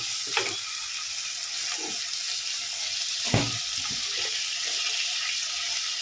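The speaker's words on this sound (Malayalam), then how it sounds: "അപ്പോൾ സവോള, തക്കാളി, പച്ചമുളക് ചേർത്തു. ഇനി ഇതൊന്ന് വഴറ്റാം." Onion, tomato and green chili sautéing in a pan, a quiet steady sizzle with a few scattered scrapes and taps of stirring, close up with no talk.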